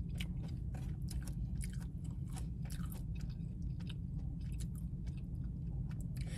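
Close, crisp chewing and biting of food in Oakland Chinatown, a steady run of wet crunches and mouth sounds for several seconds with no talk.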